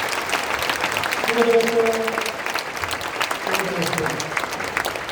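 Audience applause at a Korean War 72nd anniversary prayer meeting: a steady wash of clapping through the whole stretch, with a voice speaking briefly over it.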